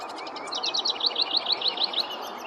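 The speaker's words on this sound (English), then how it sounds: "A northern House Wren was in full song" A northern house wren sings in full song, a rapid series of bright, bubbling chirps and trills repeated in quick succession, fairly close and clear over a soft outdoor background hiss.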